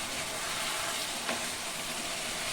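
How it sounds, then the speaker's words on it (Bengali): Chicken and potatoes sizzle in hot oil while being stir-fried for chicken kosha, a steady close crackling hiss with occasional stirring scrapes. "এখন আমি ভালো করে এটাকে কষিয়ে নিব"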